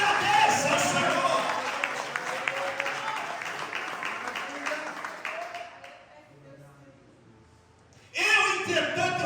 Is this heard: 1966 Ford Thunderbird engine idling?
no